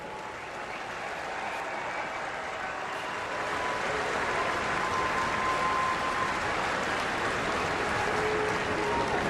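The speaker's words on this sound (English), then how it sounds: "je voudrais qu'on applaudisse les 350 volontaires, 350 volunteers who made this tournament possible" A large hockey arena crowd at a world junior championship final applauds the tournament volunteers with sustained, dense clapping and cheering that swells slightly louder and continues steadily throughout.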